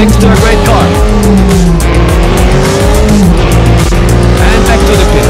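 BMW M3 GTR race car in Need for Speed Carbon on the Nürburgring Nordschleife, its engine loud and close with rising and falling revs through gear changes and brief tire squeals, under game music and a speaking voice.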